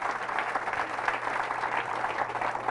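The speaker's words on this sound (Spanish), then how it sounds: "Fuerte ese aplauso, la palabra del Señor." A church congregation gives steady applause during a Catholic sermon, a continuous dense patter of claps from a large gathering with a faint low hum underneath.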